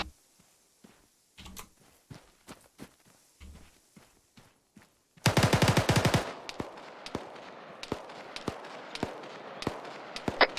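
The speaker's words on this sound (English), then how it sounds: "I'm hearing gunshots to the fucking northwest." Gunfire from Squad, the military shooter game: rapid sharp shots in scattered bursts, a dense loud volley in the middle, then more single distant cracks over a rumbling battlefield background.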